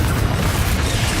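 A Confringo blasting spell explodes in Hogwarts Legacy, a loud, dense, continuous boom filling the whole moment with heavy low rumble and no pause.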